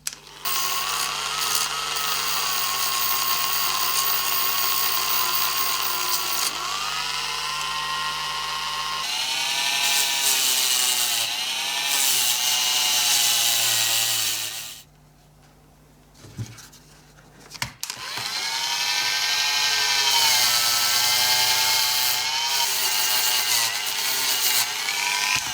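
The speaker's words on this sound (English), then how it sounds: "I'm going to use a Dremel with a wire brush just to get the corrosion out of the center of that" A Dremel rotary tool with a wire brush scrubs corrosion from the center of a tin toy car's grille. Its shrill, wavering whine runs for long stretches, breaks off briefly midway, then resumes, loud and close.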